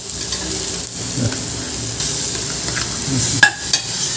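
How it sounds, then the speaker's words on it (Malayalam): Sliced onions sizzling and frying in a pan with ginger and green chilli paste stirred in, a steady close frying hiss with occasional stirring scrapes, no talking. "നമുക്ക് ഇതാക്കാം അപ്പോഴേക്കും നമ്മുടെ ഇവിടെ സവോള വഴണ്ട് വന്നിട്ടുണ്ട്"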